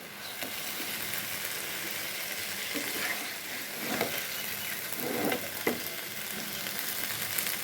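Eggplant frying in a covered pan over medium-low heat: a steady, fairly soft sizzle runs throughout, with occasional light pops and knocks.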